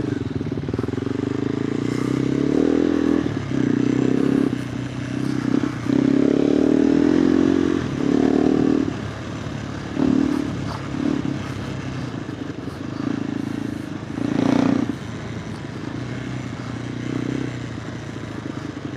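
A KTM 390 Adventure R fitted with a Norifumi Whoops exhaust ridden off-road, its loud single-cylinder engine droning and rising and falling with throttle and shifts, close and steady throughout with occasional clatter.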